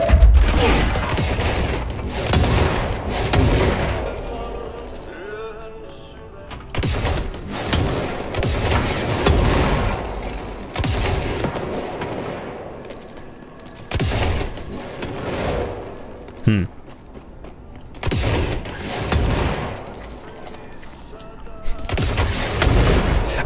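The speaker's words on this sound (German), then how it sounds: "Ich sollte wahrscheinlich einfach nur mit meinem Granatwerfer hier lustig in irgendwelche Räume reinballern" Repeated loud explosive blasts and booms from grenade launcher fire in the video game Control, irregularly spaced across the stretch with clattering mechanical sounds between them.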